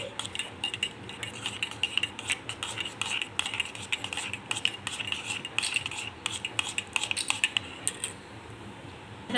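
Spoon stirring honey and lemon juice in a glass, with rapid, continuous light clinking and tapping close by and no talking.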